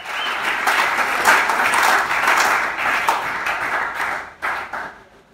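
A church congregation breaks into loud, sustained applause, a dense wash of clapping that swells and dips over several seconds before thinning toward the end.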